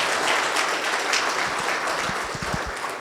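Enthusiastic crowd clapping at a political rally in Newnan, a dense close patter of hands with a few low thumps, steady for about three seconds.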